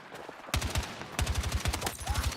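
Rapid automatic fire from a hard-recoiling MK4 rifle in Delta Force, two close, loud bursts of evenly spaced shots separated by a brief pause.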